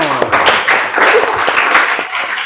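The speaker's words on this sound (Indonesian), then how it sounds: "Berikan aplaus untuk temanmu." Students in a madrasa classroom clap for their classmates, a loose, lively burst of hand claps mixed with some voices, close by and fairly loud.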